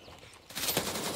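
Gunfire in the video game Gray Zone Warfare: after a quiet moment, a dense burst of automatic fire erupts and continues loudly to the end.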